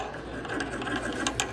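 A ratchet tightening a bolt on Ford S550 Mustang suspension, giving a fast continuous clicking whir over a steady mechanical background, close and fairly loud throughout.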